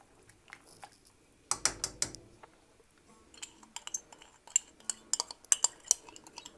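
Sharp metallic clinks and scrapes of a utensil against a pot while stirring ingredients into a vegan chicken-style noodle soup, in irregular close bursts separated by quieter pauses.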